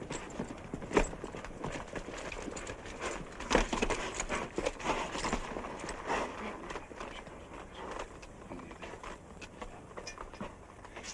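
Hooves clip-clop at an uneven pace over a busy outdoor background, with a few sharper knocks standing out, moderately close.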